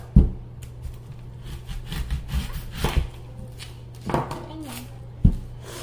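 A kitchen knife cuts an onion in half on a board: a few sharp, separate knocks and short scraping strokes, close by, over a low steady hum.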